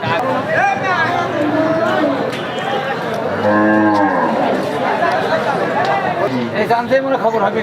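Cattle low amid a busy crowd at a cattle market in Jhenaidah, Bangladesh; one loud, sustained moo rises over the constant hubbub of people chatting nearby.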